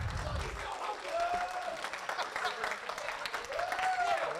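Audience at an award ceremony applauding, a broad continuous patter of clapping from a crowd, somewhat distant, with a person's voice briefly heard over it.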